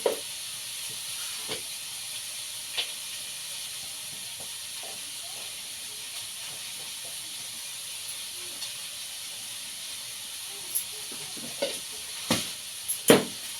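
Turmeric and onion hitting hot oil for a Maharashtrian matki curry, a steady hissing sizzle with scattered spoon clinks and stirring knocks that grow busier near the end.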